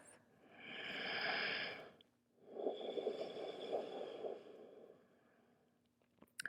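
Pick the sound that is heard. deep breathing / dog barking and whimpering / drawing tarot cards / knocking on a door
deep breathing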